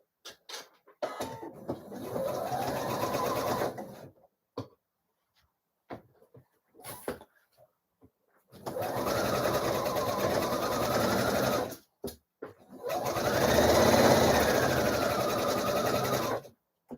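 A sewing machine stitches a dress in three bursts, the third long and loud, with short bursts and quiet pauses in between.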